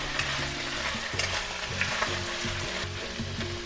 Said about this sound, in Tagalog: Careful lang sa mga talsik-talsik sa mantika.